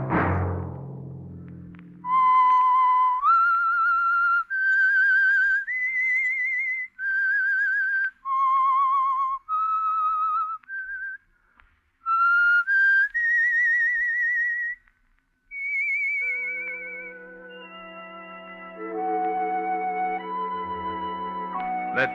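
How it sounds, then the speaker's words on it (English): Whistled theme signal of the 1947 Signal Oil radio mystery The Whistler, a lone melodic whistle of sustained wavering notes in short phrases, clear and prominent, ending with low orchestral chords. "Let that whistle be your signal for the Signal Oil program, The Whistler, each Monday at 9."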